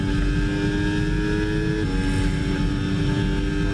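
A Cadillac F1 car engine drones steadily with a strained, buzzing tone in F1 26 at Belgium, dipping slightly in pitch partway through, with no talking.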